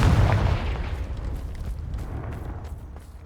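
A heavy, booming blast from the Confringo fire spell in Hogwarts Legacy bursts loudly at the start, then rumbles and crackles as it fades over a few seconds, with no talking.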